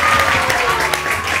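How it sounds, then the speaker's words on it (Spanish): A television show audience gives a loud round of applause for the guest Estela Taffer, a dense burst of clapping with speech and music mixed in underneath. "Un fuerte aplauso para ella."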